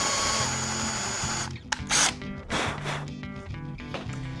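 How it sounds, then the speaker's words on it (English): A power drill boring a hole through a piece of scrap wood, heard up close as a steady whirring motor with a few louder bursts as the bit bites into the board, with no talking. "Now as you can see, we did drill our hole"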